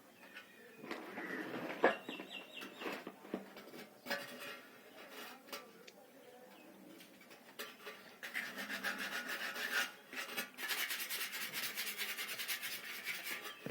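Abrasive rubbed by hand over a motorbike silencer before painting, a dry rasping scrape in uneven strokes that turns denser and steadier in the second half, close and fairly loud with no talk.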